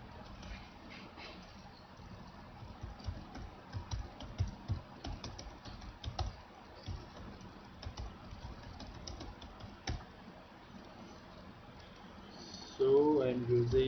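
Computer keyboard typing while writing code for a half adder module: irregular clicks and short bursts of keystrokes throughout, with a low background hum and a louder patch near the end.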